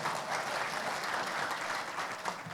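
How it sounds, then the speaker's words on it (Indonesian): Audience applause at a lecture on legal policy and democracy in Indonesia, a dense, even patter of many hands clapping, heard faintly from a distance without any talk. "tepuk tangan buat kita semua"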